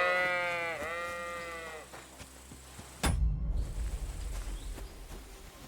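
A sheep in the medieval video game Kingdom Come: Deliverance 2 bleats once with a wavering, quavering cry over soft ambience, then a sudden thump and rustling noise follow.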